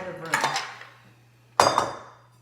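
Two separate clattering clinks of a bowl and metal utensils being handled, close and fairly crisp, with quiet between them.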